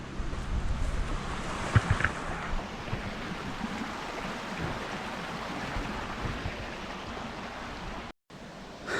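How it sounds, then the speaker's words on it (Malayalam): Hidden waterfall at Kamakshi in Idukki, Kerala, a steady broadband rush of falling water close by, with wind buffeting the microphone and a brief dropout near the end. "ഇടുക്കിയിൽ അധികം ആരും പരിചയപ്പെടുത്താത്ത അല്ലെ അധികം ആർക്കും അറിയാത്ത കാമാക്ഷിയിലെ വെള്ളച്ചാട്ടമാണ് നമ്മളിപ്പോൾ കണ്ടത്"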